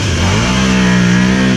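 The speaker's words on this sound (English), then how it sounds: "This exhaust is like built for this bike." A 2009 Can-Am Outlander 800R ATV engine with a slip-on exhaust revs up close and loud in one short, steady burst, rising in pitch, then settles briefly before dropping off, with no talk over it.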